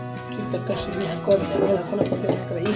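Spoon clinking and scraping against a bowl while mixing a spiced poha snack with salt, chili powder and oil, a run of light irregular metallic taps close up, with someone talking throughout.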